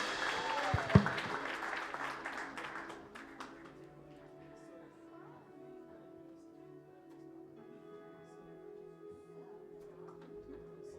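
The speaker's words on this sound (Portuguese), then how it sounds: "Vamos aplaudir ao Senhor pela vida dos nossos irmãos" A church congregation applauding, a burst of clapping that fades within a few seconds and is followed by quieter room sound with some talk.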